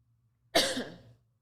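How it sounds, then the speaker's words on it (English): A single close cough from a woman during an interview, one short harsh burst that trails off quickly within a quiet room. "I have a bit of a cough over here"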